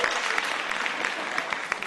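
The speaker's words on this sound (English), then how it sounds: "Let's give a round of applause for our panelists." Applause for panelists at the end of a business club talk on retaining talent, a brief burst of steady clapping from a modest audience indoors.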